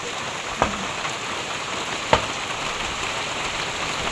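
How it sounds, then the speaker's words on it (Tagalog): Heavy rain falls steadily in a constant broadband hiss, with a couple of louder drips or taps standing out, and no voices. "Grabe naman po ang ulan."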